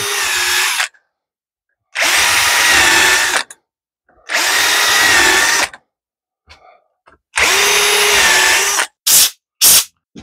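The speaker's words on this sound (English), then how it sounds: "Now, I don't want to bore you with just drilling holes" Power drill boring a row of holes into a wooden cribbage board with a template, in four loud sustained bursts separated by pauses, then two brief final spurts.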